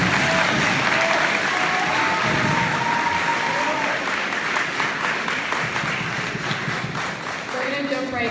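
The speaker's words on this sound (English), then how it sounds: "Let's give a round of applause for Norm taking our photo today." Applause fills a sports awards banquet hall, a loud, continuous wash of many hands clapping at once with scattered voices underneath, holding steady throughout.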